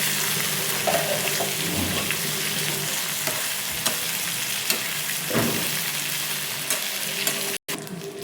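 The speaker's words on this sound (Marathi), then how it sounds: "हे बघा हलवून घेतली भेंडी आता छानपैकी." Okra being stirred as it fries in a pan, with a constant close sizzle, scattered spatula scrapes and a brief cutoff near the end. Nobody speaks.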